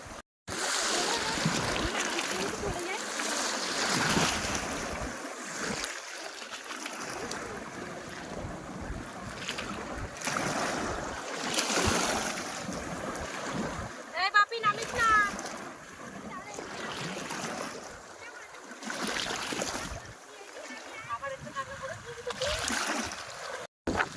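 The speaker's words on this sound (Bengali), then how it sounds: "কিরকম ঢেউ হচ্ছে দেখো ঢেউ দেখো শুধু" Stormy wind roars across a Sundarbans river during a fishing trip, with waves splashing against a boat in surges. People talk over the wind and water throughout.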